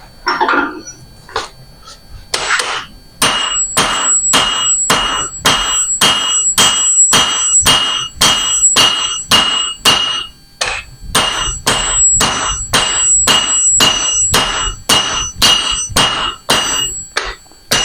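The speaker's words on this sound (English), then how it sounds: "how many times I have to swing a hammer to flatten this the way I want" Repeated heavy hammer blows striking metal in a steady rhythm, loud and close, with a few brief pauses between runs of strikes.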